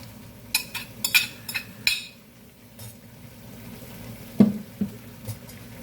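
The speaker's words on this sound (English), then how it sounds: "I'm going to add my onion." Onion hitting a hot pan for low sodium shrimp and chicken ramen, a few sharp sizzling bursts and stirring clatters close up over a steady background hiss, no talk.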